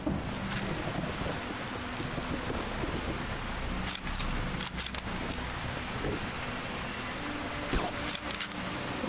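Steady heavy rain in the video game Fallout New Vegas, a dense continuous hiss with low rumbles and a few sharp crackles throughout.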